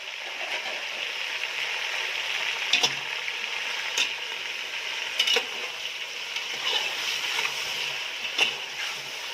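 Fish frying in oil for a fish curry gives a continuous close crackling sizzle with occasional sharper pops and stirring scrapes, fairly quiet throughout, with no talk.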